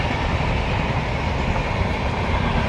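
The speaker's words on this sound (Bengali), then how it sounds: "যাত্রীবাহী ট্রেন।" Close up, an electric passenger train passes as a loud, dense, unbroken roar of wheels on rails, with no voices over it.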